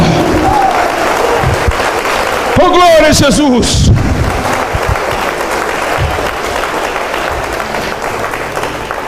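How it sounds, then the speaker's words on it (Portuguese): Church congregation applauding loudly during a worship service, dense clapping that carries through the whole stretch, with a man's excited exclamation near the middle. "Essas palmas é para Jesus, igreja."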